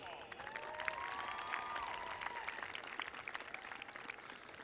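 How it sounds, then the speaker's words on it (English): A high school graduation crowd claps and cheers in a large venue, with whistles ringing over a moderately quiet, continuous wash of applause that holds steady throughout. "Seniors, let's give your families a round of applause."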